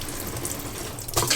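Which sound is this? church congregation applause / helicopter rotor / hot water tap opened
hot water tap opened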